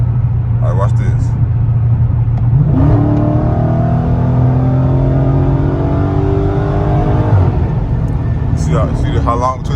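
Dodge muscle car, an R/T, Scat Pack, Daytona or Hellcat, accelerating hard in a roll race from 70 mph without paddle shifters: a loud, steady engine roar climbs in pitch, shifts gear around the middle and keeps pulling, heard from inside.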